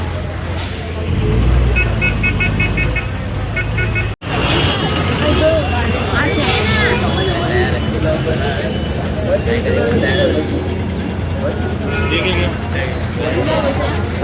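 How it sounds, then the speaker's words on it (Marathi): A vehicle arrives on a busy road in the early morning, its horn tooting in quick repeated bursts amid engine rumble and traffic noise, while people talk nearby. "फायनली आपली गाडी आली तुळजापूरला जायला"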